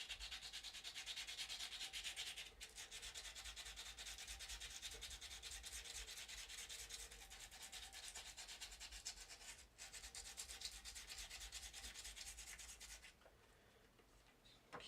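Steady, continuous sanding scrapes across a hardened epoxy sculpt, rough and even throughout before dropping away near the end.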